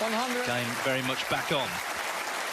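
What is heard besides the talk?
snooker crowd applauding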